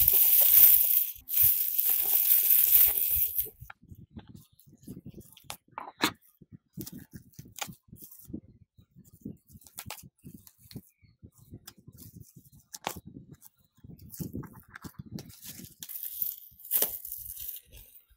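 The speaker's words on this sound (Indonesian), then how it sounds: "Langsung aja kita unboxing." A book package from a publisher is torn open and unwrapped, giving close crinkling, crushing and tearing of packaging material, loud in the first few seconds and then broken into scattered rustles and handling noises with brief pauses.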